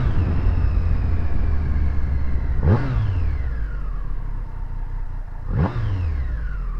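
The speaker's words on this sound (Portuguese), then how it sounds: "Olha o ronco, esse ronco é lindo demais." A Triumph Street Triple 765 motorcycle engine, heard up close and loud, idles with a steady drone and then gives two sharp throttle blips, about three seconds apart, each rising quickly and falling back.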